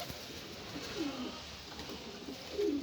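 Pigeons in a coop kept by a Kars fancier give soft, low cooing calls, a couple of rising coos near and moderately loud over a steady background hum, with no talk.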